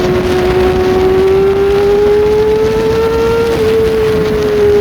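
A Kawasaki Ninja ZX-25R engine running with its auto-blip quick shifter, a loud, close, high steady whine that rises slowly in pitch and dips briefly, with no voices.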